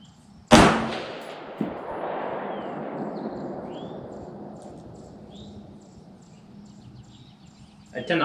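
A single sharp, loud rifle shot from an AR-15 firing 62-grain green-tip Winchester 5.56 rounds, followed by a long rolling echo that slowly fades outdoors, with a second faint crack at the end.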